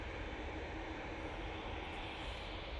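EasyJet Airbus A320ceo taking off from Manchester Airport bound for Catania, a continuous distant engine rumble, fairly faint and steady, with no talk over it.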